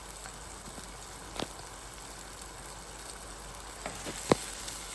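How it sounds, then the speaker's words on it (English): Egg sauce fries in a pan for a Nigerian boiled plantain dish, giving a faint, low sizzle with a few sharp scrapes and clicks from stirring. "I will stir well to combine."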